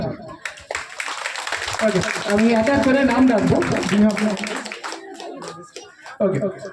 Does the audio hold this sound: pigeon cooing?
no